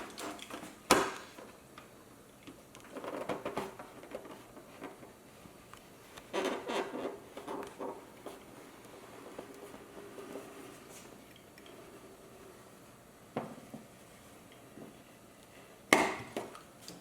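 A blade scores repeatedly through thick plastic while a silverware drawer organizer is cut to size, heard as intermittent scraping strokes and sharp clicks of moderate loudness against quiet room tone, with no talking.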